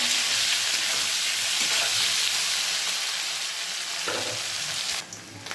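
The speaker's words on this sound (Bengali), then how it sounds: "আলুগুলোকে ছেড়ে দিয়েছি, এর আলুগুলোকে ভেজে নেব লাল লাল করে" Potatoes frying in hot oil in a home kitchen, a steady dense sizzle that runs without pause, close and fairly loud, with a brief softer dip near the end.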